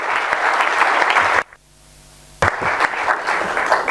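A church congregation at a Congolese revival church bursts into loud, dense applause and cheering, cut by a one-second gap of near silence before the clapping resumes just as strong.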